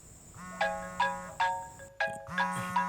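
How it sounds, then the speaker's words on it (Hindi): A phone ringtone plays a repeating melodic jingle of bright electronic notes, looping several times at a steady rhythm, fairly close and clear, with a brief pause midway. "वंदना, तुम्हारे फोन पर रजनी का फोन आ रहा है"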